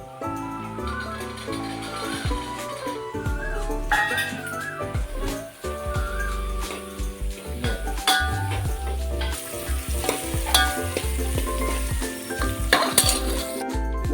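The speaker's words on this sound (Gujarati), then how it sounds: "હવે આપણે નાખીશું લીલા વટાણા" Green peas drop into a hot, sizzling spice tempering in a pan, with a continuous crackle, stirring, and light clinks of utensils against metal, all under background music.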